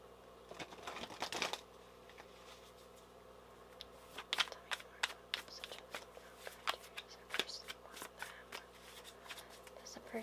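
Tarot cards being shuffled and pulled by hand, quick riffling flutters and sharp crisp card snaps and taps, close up but soft, with a scattered irregular rhythm.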